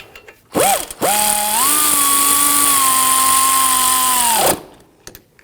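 A power tool snugs down the bolts on a 2001–2009 Volvo S60 front wheel hub, with a short whir followed by one long, loud, steady whine of about three and a half seconds that rises slightly and then cuts off.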